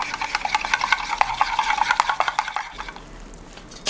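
A spoon stirs 150 ml of warm brewed black tea with 3 tablespoons of creamer in a 16-ounce cup for blueberry milk tea. It makes quick, close scraping clinks for about two and a half seconds, then goes quiet.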